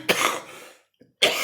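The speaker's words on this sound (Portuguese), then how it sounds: "Eu vou tossir de novo." Two harsh coughs sound close to the microphone, separated by a brief silence with a small catch of breath between them.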